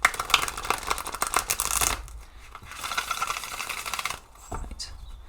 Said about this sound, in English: Let's give this a proper shuffle so I know that it's...